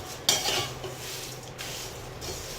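Konkan goda masala spices are dry-roasted in a pan over low heat, a utensil scraping and clinking against the metal with a soft rustle, close and continuous.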